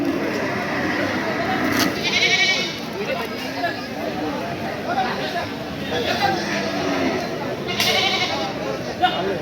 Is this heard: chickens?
no